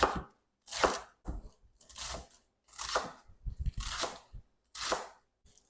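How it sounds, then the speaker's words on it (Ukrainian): A knife crunches through crisp iceberg lettuce in a series of separate cuts, about six close, crackly strokes with short pauses between them. "Далі айсберг, його можна порвати на шматочки, а я для швидкості наріжу."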